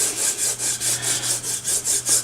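A waxy block of compound is rubbed back and forth on a DIY strop in about ten steady, even strokes, each a close, soft, raspy swish.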